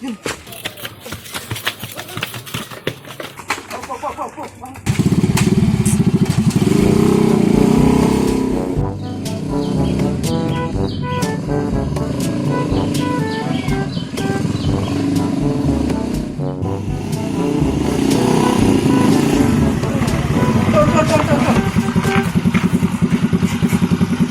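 A motorcycle engine running close by, loud and rumbling with revving changes, amid clatter and background voices.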